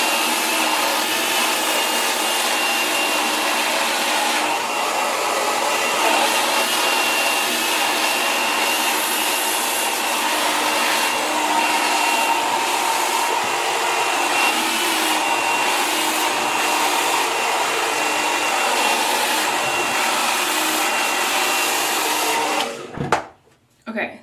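Handheld hair dryer blow drying hair for a smooth blowout, a loud, steady whooshing roar that runs unbroken for over twenty seconds before cutting off with a couple of bumps at the end.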